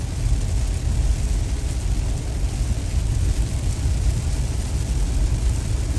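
Steady low engine drone and road rumble from a 2021 Mazda CX-30 Premium accelerating toward 50 mph on a road, continuous and moderately loud with no talking.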